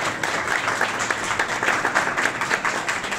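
An audience at a mayor's campaign event claps in a steady, dense burst of applause that holds for the whole stretch without any speech.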